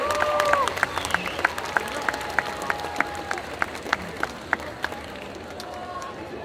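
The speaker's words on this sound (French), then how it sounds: "un tonnerre d'applaudissements pour Alex en Omori de Omori" Scattered, sparse clapping from a cosplay contest audience for a solo cosplayer dressed as Omori, with sharp separate claps in a loose rhythm that thin out over several seconds, while a voice speaks faintly in the background.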